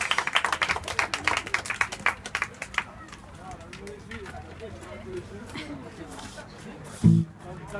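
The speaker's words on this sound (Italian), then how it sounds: "Un applauso, è timido." A small live audience at an Italian blues band gig claps for a shy harmonica player, a brisk round of close, irregular handclaps that fades after a few seconds into low room murmur with a thump near the end.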